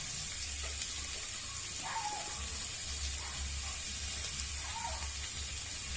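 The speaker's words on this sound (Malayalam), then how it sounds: "നമുക്കിനി ക്യാരറ്റ് ഇട്ട് കൊടുക്കാം" Carrot and cabbage sizzle in a pan for homemade fried rice, a steady broadband frying hiss with a low rumble running continuously throughout, fairly faint, with no voices.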